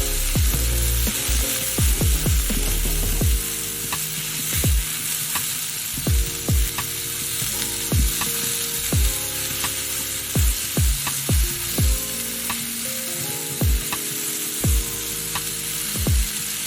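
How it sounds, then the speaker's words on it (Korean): Thinly sliced beef stir-frying in a pan for a spicy curry udon, a steady loud sizzle broken by repeated clacks and scrapes of a utensil tossing the meat. "고기가 빠지면 섭섭하니까 얇게 썬 소고기 넣어줄게요."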